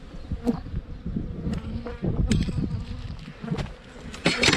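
Honey bees buzzing around an open hive during a spring inspection, a dense close hum with individual bees zipping past, plus handling knocks and rustles.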